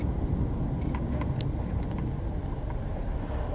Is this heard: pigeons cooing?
no